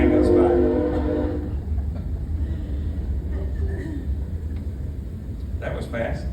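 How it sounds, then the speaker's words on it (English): Train rumbling past at close range in a small town, a steady low roar throughout with a brief horn-like tone at the start and metallic clatter later. "We sit quietly while the train goes by."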